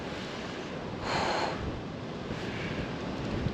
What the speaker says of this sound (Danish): blæser af helvede til, og det er minus 1 grad.